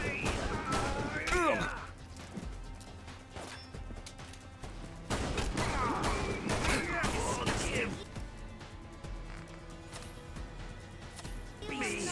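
Gunfire from the video game Fallout London, loud shots and crashing impacts in a couple of intense bursts with quieter stretches between, while a person talks throughout.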